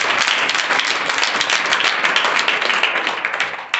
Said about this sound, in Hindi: तालियां बजाइए इनके लिए।